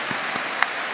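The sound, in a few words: congregation applause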